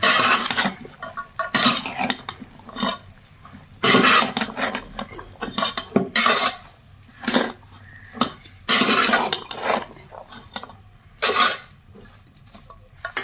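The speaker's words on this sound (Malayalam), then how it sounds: "ഇനി അരിഞ്ഞു വെച്ചിട്ടുള്ള തേങ്ങാക്കൊത്ത് ചേർത്ത് കൊടുക്കാം ഇനി ഒന്ന് നന്നായിട്ടൊന്ന് ഇളക്കാം" Chopped coconut pieces stirred in a masala pan: loud, close bursts of a utensil scraping and knocking against the metal pan, repeating in uneven strokes with short pauses between.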